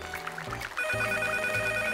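A telephone rings in a Chinese television dating-show studio, with a steady, bright ringing tone that runs loud through the whole two seconds.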